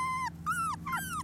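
Female Labrador puppy whimpering outdoors in the cold, three close, high, drawn-out whines in quick succession over a steady low background hum.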